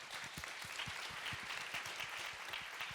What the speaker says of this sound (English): And you are so right to applaud to this point.